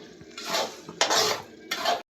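A spoon scrapes around a heavy-bottomed metal kadai in three separate strokes as semolina is dry-roasted, close up, with no talking.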